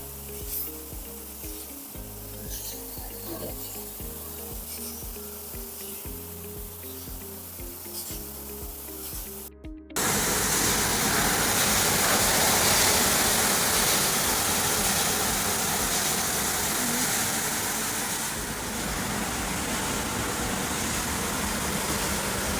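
An STvega industrial washing machine for food containers and barrels on its rinse stage: loud, steady spraying water rush with no breaks, preceded by rhythmic mechanical conveyor thumping before the spray starts.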